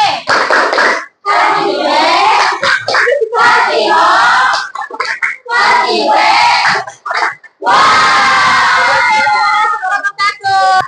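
Schoolchildren perform the tepuk WOW clapping cheer, a loud group chant and rhythmic clapping that runs in bursts with brief pauses, crowded and close.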